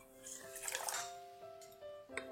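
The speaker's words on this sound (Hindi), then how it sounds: "थोड़ा सा पानी डालेंगे इसमें, तकरीबन 1/2 कप हमने इसमें पानी डालना है" Water pours into ground apricots in a kitchen, a splashing, trickling rush that swells and eases, with faint background tones running under it.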